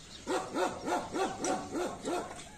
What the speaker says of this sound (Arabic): خايف من الكلب